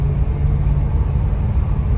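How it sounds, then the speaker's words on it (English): A 1972 Chrysler New Yorker's 440 V8 pulls steadily under acceleration, a loud, continuous low rumble from inside the car, with the engine staying at modest revs and no talk over it. "You can hear the motor really wasn't revving even that much."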